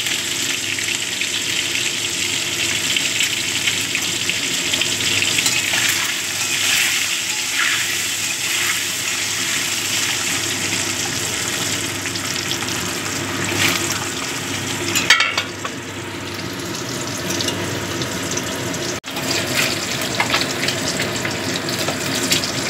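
Duck eggs frying with a little turmeric in hot oil in a pan, a continuous close hiss and crackle that holds steady throughout, with a brief clatter of stirring partway through.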